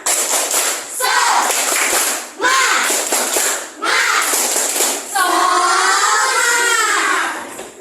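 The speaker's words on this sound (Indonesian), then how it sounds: "kita tepuk semangat dulu" A class of children does a rhythmic spirit clap led by their teacher, loud bursts of clapping in patterned groups, with children's voices chanting along near the end.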